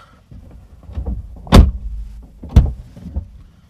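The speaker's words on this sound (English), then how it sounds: "I'm gonna shut the door" RAM 1500 pickup truck door slamming shut and then thudding again about a second later, two loud close impacts amid faint rustling and handling noises.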